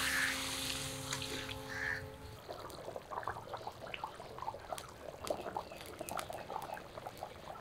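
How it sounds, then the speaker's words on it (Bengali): Water poured into a pan of boal fish curry with potatoes to make the gravy, a faint close splash and trickle followed by soft bubbling and sizzling as the liquid settles in the hot pan. "ঝোলের জলটা দিয়ে দিলাম।"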